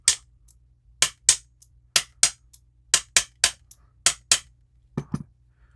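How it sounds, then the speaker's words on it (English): A red and black bumper hammer strikes a bump key in a Best padlock, giving about a dozen sharp metallic whacks, mostly in pairs, close and loud against near silence. "I got this beautiful red and black bumper hammer, and I thought we'd give it a couple of whacks"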